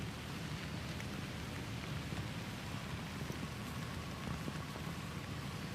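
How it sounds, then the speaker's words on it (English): Steady heavy rain falls on a golf course, a dense, even hiss of drops on wet ground with a low rumble beneath, continuous and close, with no voices. "We are working on close to 5 inches of rain by the time this day is at an end."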